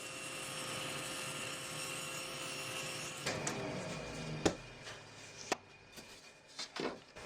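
Table saw cutting a panel on a sled, a steady spinning motor whine that then breaks into rough cutting noise with several sharp knocks and clatters, close and moderately loud.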